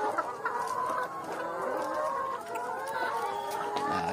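Healthy laying hens in a coop cluck steadily, several birds overlapping in a continuous murmur of calls at close range.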